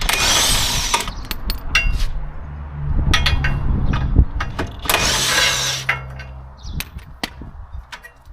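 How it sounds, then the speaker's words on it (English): A power tool loosening bolts on a VW Golf GTD 2.0 with DSG gearbox, short loud whirring bursts separated by metallic clinks and handling noise, close up in a workshop, with no talking. "So let's undo some bolts and see what happens"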